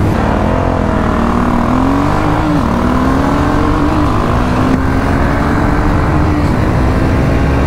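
Triumph Speed 400 and BSA Goldstar 650 motorcycles accelerate hard through the gears at high speed, a loud steady engine drone with rising pitch and constant wind roar throughout, no talking.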